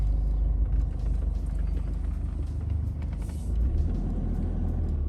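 Nissan Pathfinder SUV driving straight ahead, heard from inside as a steady low engine and road rumble with faint rattles, continuous and moderately loud, with no talk.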